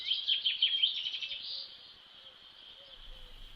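Little birds chirp and tweet in a quick high twittering run at the start, then fade to a faint steady background at a spoken-word slam event, played as a sound effect.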